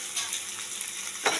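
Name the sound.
frying boiled potatoes with onion and tomato in a pan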